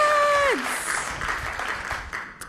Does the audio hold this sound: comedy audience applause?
yes